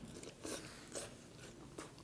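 Someone eating spicy Korean beef and vegetable soup (yukgaejang) with fernbrake and rice: faint, close chewing with a few soft crunchy bites at a steady pace, no talking.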